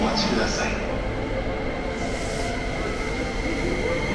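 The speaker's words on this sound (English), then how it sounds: "Our train is here." A train arrives at a station in Japan with a steady, loud mechanical roar and hiss of rolling wheels, filling the space without a break.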